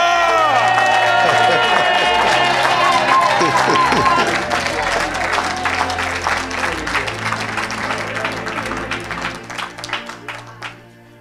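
A church congregation breaks into loud applause and cheering, a dense crowd roar with clapping that slowly thins into scattered claps before fading out.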